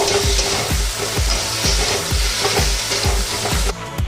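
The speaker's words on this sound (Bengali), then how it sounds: "এবার আমি এর মধ্যে দিয়ে দেব আদা আর রসুন বাটা দিয়ে ভালো করে আদা রসুন কষিয়ে নেব" Ginger-garlic paste frying with potatoes and onions in a pan while making a mutton fat dish, a loud continuous sizzle broken by steady rhythmic scraping of a spatula roughly every half second, with no voices.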